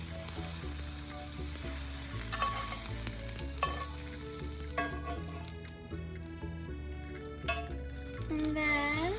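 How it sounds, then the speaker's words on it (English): Half a tablespoon of butter melts in avocado oil in a skillet with a loud, close, continuous sizzle and crackle, while music and a voice run beneath it. "we're going to put half a tablespoon of butter in there"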